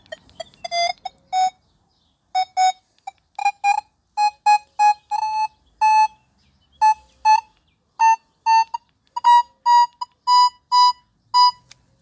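A series of short, high-pitched electronic beeps from a Nokta Makro Legend metal detector in irregular bursts, clear and close, with brief pauses between groups.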